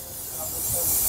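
A South Eastern Railway local train pulls into a station, with a steady airy hiss and low rumble that swell gradually over a brief moment.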